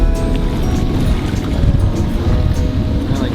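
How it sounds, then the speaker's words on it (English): Boat engines idle and warm up at a dock, a loud, steady low rumble with a constant churning wash and no voices. "we get going pretty soon, just warming up the engines"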